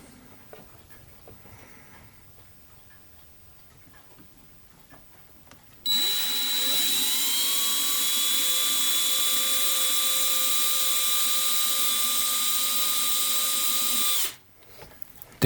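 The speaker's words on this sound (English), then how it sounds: "let's give it a little bit more with the drill" A loud, steady power drill whines continuously for about eight seconds while boring through a model ship part, starting abruptly and cutting off sharply, with quiet room sound before and after.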